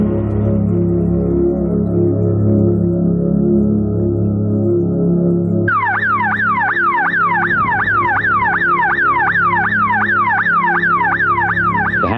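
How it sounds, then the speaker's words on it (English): A house burglar alarm rings loudly and continuously, a steady droning tone giving way to a rapid, repeating warbling siren sweep that persists without pause. "It's a brave man that stays in a house with an alarm ringing."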